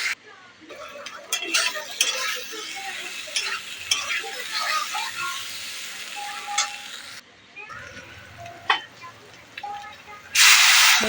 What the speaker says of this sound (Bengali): মশলা থেকে যতক্ষণ না কাঁচা গন্ধ যাচ্ছে ততক্ষণ কষাবো।